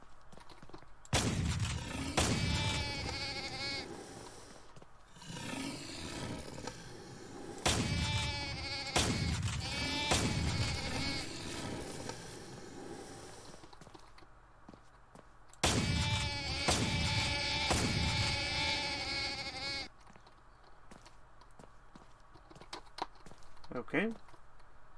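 Sheep bleats from the PC video game Devil's Share, several loud, wavering calls in bursts amid game sounds, with someone talking over parts of it.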